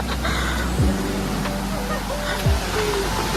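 Ocean waves wash along the cliffs during a boat trip to Lembongan, a steady loud rush of surf and water noise close by, with a couple of brief heavier surges.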